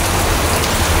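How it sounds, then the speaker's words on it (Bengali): Steady, dense rain patters loudly and evenly on a surface, a continuous wash of drops with no gaps. "আজকে বৃষ্টির দিন"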